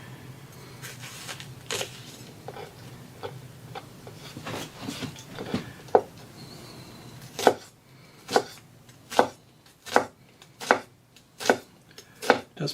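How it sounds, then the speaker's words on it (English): An imarku 8-inch hammered chef knife mincing shallot on a board, first irregular soft slicing cuts, then a run of crisp, evenly spaced chopping taps that grow louder near the end. "the shallot test. Looking for a nice minced shallot."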